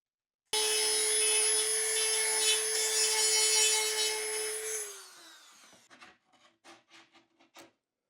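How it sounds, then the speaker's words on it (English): A saw cuts wooden crown molding with one long, steady, whining stroke lasting several seconds before it winds down, followed by a string of short, quieter rasping strokes, close and alone. "I use the saw to cut the main portion."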